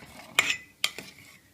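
A spoon stirs maida papad batter in a pan over low heat, giving two brief, fairly close scraping clinks against the metal, with quiet gaps between them.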